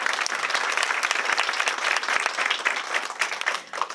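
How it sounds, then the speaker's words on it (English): Loud, sustained applause from a crowd at a Black History Month celebration: a thick, continuous roar of many hands clapping that holds steady for several seconds and thins slightly at the end. "Can we give them a round of applause?"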